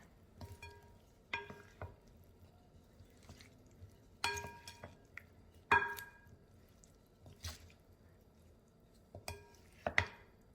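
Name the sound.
mixing pasta salad with Parmesan cheese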